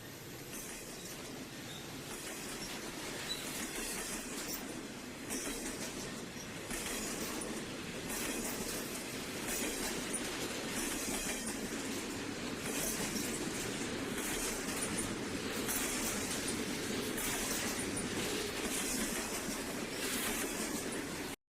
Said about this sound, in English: Number 6028 was running long hood first as it pulled this eastbound freight